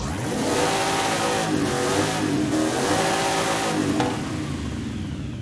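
A racing 7.2-liter V8 engine in Forza Horizon 5 revs hard and loud, its roaring pitch rising and falling through several sustained pulls with no pauses.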